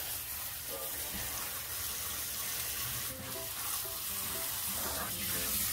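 Napa cabbage being washed in water to rinse off soil, a steady running-water and splashing wash with faint clatter, continuous throughout with no voices.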